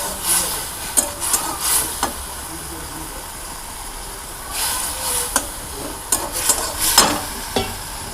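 Fish curry paste of ground mustard, dried chilli and turmeric frying in a pan, with bursts of hissing sizzle and scraping stirs coming and going between quieter stretches.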